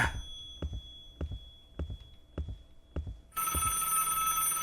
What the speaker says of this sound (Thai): เสียงโทรศัพท์มันใกล้ เข้ามาทุกที ทุกที